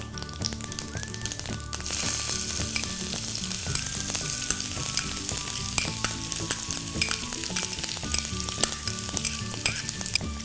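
Chopped onions sizzle and fry in a pan of hot oil while jhunka is being made, a steady close crackling hiss with scattered pops and occasional stirring scrapes, no voices.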